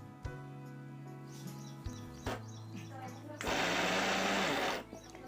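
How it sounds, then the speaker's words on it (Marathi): A kitchen mixer grinder whirs coriander and cumin into a coarse paste in one loud, close burst of about a second, after a stretch of low household hum and knocks. "मिक्सरच्या भांड्यातून आपण हे छान असं फिरून घेऊ"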